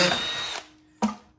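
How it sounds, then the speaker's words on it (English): A power drill whines at full speed while boring a hole to install a phone mount in a 2015-2020 Ford F-150, then stops and gives one brief, quick burst, loud and close. "And then you have to use the bigger drill bit."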